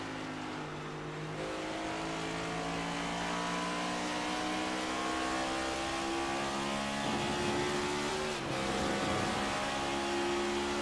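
A race car engine in the iRacing simulator at Phoenix, droning loud and steady with rising pitch, then a quick drop and blip around a double downshift into third gear.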